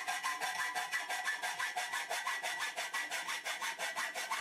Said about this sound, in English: I can cut this by hand with a hacksaw, and I can get that cut nice and square